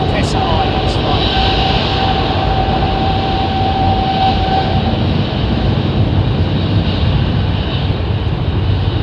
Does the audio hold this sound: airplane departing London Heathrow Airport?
yes